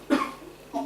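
A storyteller's voice imitates a man coughing and spluttering, two short rough bursts about half a second apart, close and fairly quiet, the first harsher and louder.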